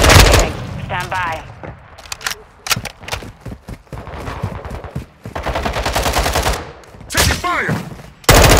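Rapid bursts of automatic gunfire from Call of Duty Modern Warfare, with repeated loud rattling volleys broken by short pauses and radio-style voice lines in between.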